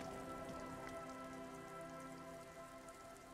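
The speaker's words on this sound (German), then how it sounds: "Es ist spät, es regnet." Steady rain patters on surfaces in the video game Disco Elysium, an even, continuous hiss of droplets with no voices.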